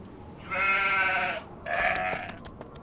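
A sheep in the Nancy Drew game The Haunting of Castle Malloy gives two drawn-out bleats, the second shorter and more wavering, clear and fairly close against a quiet background.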